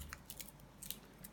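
Scissors snip through a charging cable in a few quick, crisp, close cuts spaced irregularly over a quiet background.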